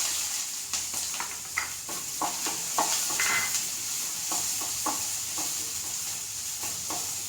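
Small onions frying in hot ghee for a mango appam recipe, a steady close sizzle and hiss with a spoon or spatula stirring and scraping the pan in scattered clinks, without talk.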